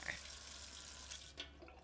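Water runs steadily from a tap for drinking in a Hindi-dubbed action movie scene, a continuous close hiss of flow that ends with a brief clunk near the end.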